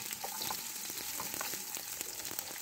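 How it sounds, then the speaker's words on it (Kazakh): Onions sizzle and crackle steadily in hot oil in a pan for carrot salad, a dense, close frying hiss with small pops and occasional stirring scrapes throughout, no voices. "қызыған соң міне жуамызды қуырып аламыз"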